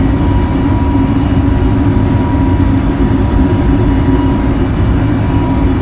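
Airbus A321 engines roar steadily on takeoff in a flight simulator game, a loud, constant low rumble with a faint high whine running through it and no break.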